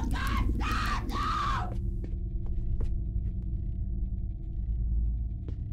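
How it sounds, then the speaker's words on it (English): A shrill, wavering scream in the horror game Oxide Room 104 sounds in three loud bursts over a deep rumbling drone, then fades into sparse clicks and the continuing low hum. "I do love the sound of screaming."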